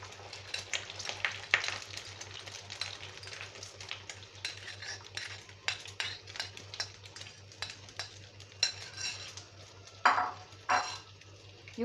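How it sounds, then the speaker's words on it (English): Eggs fry in a pan of hot oil with a faint continuous sizzle beneath frequent sharp clinks and scrapes of a utensil on the pan, a steady low hum underneath and a louder clatter near the end. "We are going to fry our eggs."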